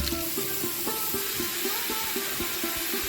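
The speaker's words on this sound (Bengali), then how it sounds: "এবারে আমি কড়াই গরম হয়ে গেছে, শাকগুলো আমি দিয়ে দেবো।" Pui shak (Malabar spinach) greens hit a hot kadai and sizzle in a dense, steady hiss with rhythmic pulsing bursts of frying, loud and close.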